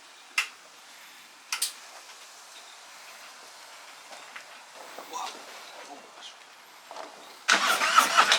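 A 2020 Harley-Davidson Road Glide motorcycle starting up: a few sharp clicks and ticks, then the engine catches and runs loud and close at the very end.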